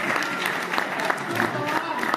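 Audience applause at a Hindi patriotic poetry recital, steady broadband clapping from a crowd that holds at an even level throughout with some scattered voices mixed in.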